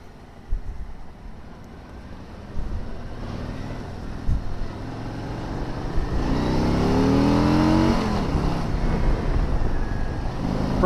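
A Harley-Davidson Street Glide motorcycle engine rumbles steadily, then swells into a louder, rising rev in the second half as the bike accelerates.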